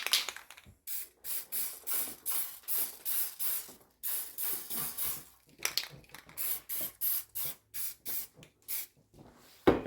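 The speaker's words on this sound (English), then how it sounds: "now I'm going to go ahead and I'm going to spray my little bird and my rocks." A spray paint can hisses in a series of short, even bursts with brief pauses between them, close and fairly quiet, painting a small craft bird and rocks.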